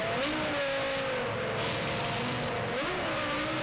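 Formula One car engine revving hard at a 2001 Brazilian Grand Prix pit stop, a loud continuous high-pitched scream with rising and falling revs and no speech.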